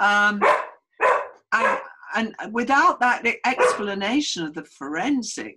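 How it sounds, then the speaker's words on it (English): A dog barks and yips a few times in the background of a room while someone speaks steadily over it. "Sorry about the dog."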